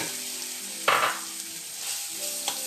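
Chopped chouriço sausage dropped into a pot of hot olive oil for Portuguese caldo verde soup, with a sharp burst of sizzling on contact that settles into a softer, steady fry.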